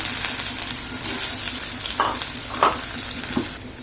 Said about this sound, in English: Now let's fry the potatoes.